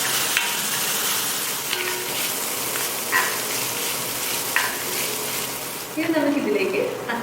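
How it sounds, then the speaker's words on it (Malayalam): Green chilli and curry leaves sautéing in a pan with salt for a prawn theeyal, a continuous sizzle and frying hiss with scattered stirring scrapes, growing louder and busier toward the end. "നമുക്കിത് നന്നായിട്ടൊന്ന് വഴറ്റി വെക്കാം."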